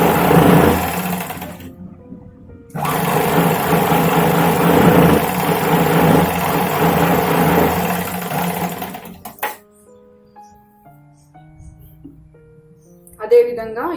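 An electric sewing machine runs in steady bursts, stitching and joining the side seams of a Punjabi dress, with a short pause and then a quieter stretch near the end; a voice talks over it.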